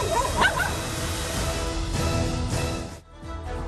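Stray dogs on a street bark and yelp close by, a few sharp outbursts over a continuous noisy background.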